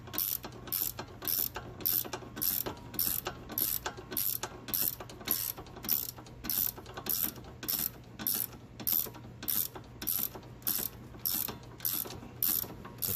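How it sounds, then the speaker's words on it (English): A ratchet wrench tightens an aftermarket lock nut during front-end rattle repair on a 2018 Jeep Compass, giving steady rapid clicking bursts with short pauses, close and clear with no talking. "I'm going to ratchet it in so it tightens up."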